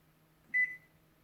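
A Samsung microwave oven gives a single short, clean electronic beep after its enter button is pressed, close and clear over a faint steady hum, with no talking.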